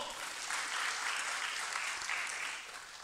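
An audience at a leadership day event clapping, dense steady applause filling the whole stretch at moderate loudness, no clear talk.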